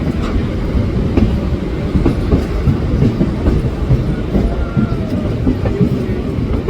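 Black Diamond Express with new LHB coaches running between Bandel and Barddhaman, heard from on board: a steady loud rumble with rhythmic clickety-clack of wheels over rail joints throughout.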